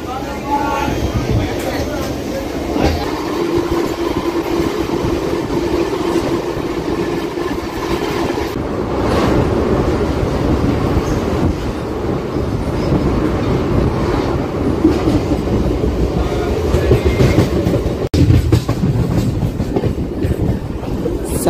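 A crowded passenger train rolls along the rails near Vinukonda, its wheels and carriages producing a loud, continuous rattling clatter with a steady rhythmic undertone throughout.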